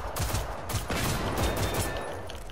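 Dense gunfire from the video game Generation Zero: rapid overlapping shots fill the whole stretch at a steady, loud level with no clear gaps, like a sustained exchange of fire.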